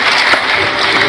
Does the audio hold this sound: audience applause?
yes